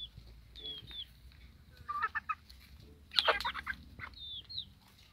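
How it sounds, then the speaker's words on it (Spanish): Young chickens about three and a half to four months old cluck and chirp in scattered bursts at moderate distance, over a low, steady background hum. "Aquí están los pollitos, miren mis amigos, para que lo sigan viendo."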